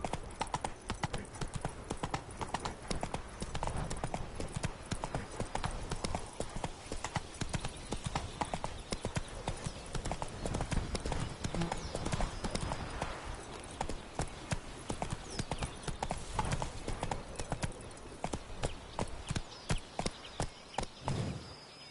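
Steady rapid hoofbeats of the horse Roach galloping in a video game, loud and continuous with a driving clip-clop rhythm throughout, no voices over it.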